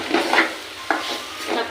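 Short scraping stirs of a spoon in a pan of frying tomatoes for soya chunk gravy over a soft sizzle, a few quick strokes close by with brief pauses between.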